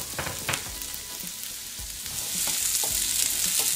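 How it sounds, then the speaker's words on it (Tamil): Chopped onions sauté with ginger and garlic in a hot pan for capsicum butter masala, a steady close sizzle and fry with occasional stirring scrapes, louder toward the end, with no voices. "இஞ்சி பூண்டு கொஞ்சம் வதங்கின உடனே வெங்காயத்தை சேர்த்துக்கோங்க."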